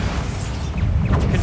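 A Bombarda explosion spell goes off in Hogwarts Legacy, a short rumbling blast with debris-like crackle and brief rising whooshes, close and fairly loud.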